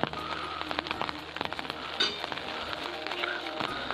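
Rain falls in the hills around Kasar Devi, a dense steady patter of drops striking nearby surfaces with scattered louder splats, close and fairly quiet, with no talking.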